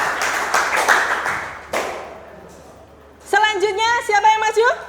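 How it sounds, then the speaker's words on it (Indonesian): A classroom group claps for a student during a school lesson, a burst of applause at the start that fades before a teacher's voice begins speaking. "Oke, tepuk tangan sekali lagi untuk Eva."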